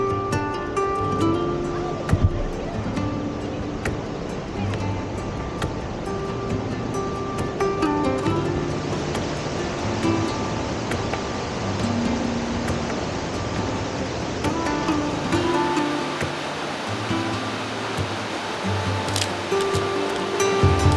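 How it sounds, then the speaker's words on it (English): Lower Yosemite Falls heard from the rocks close to its base in Yosemite National Park, a loud, constant broadband roar of falling water, with faint voices in the background. "you can get up really close to the waterfall along these rocks"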